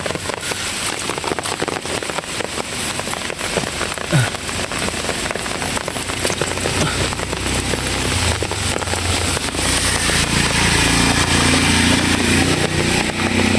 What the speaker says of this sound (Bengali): চারদিকে বৃষ্টি পড়তেছে